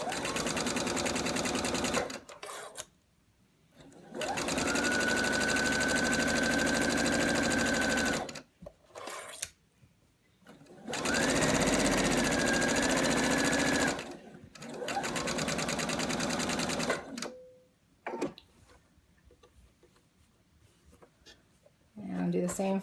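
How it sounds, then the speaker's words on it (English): A sewing machine stitches a seam on a herringbone quilt in three long, steady, close bursts of whirring, separated by pauses, with the stitching alone between the breaks. "and sew down this length."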